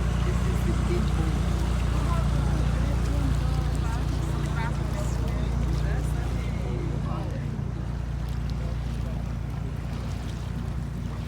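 A big tourist boat on the river in Dinant, Belgium, gives off a loud, constant low engine drone with wind and water noise, while voices talk faintly over it.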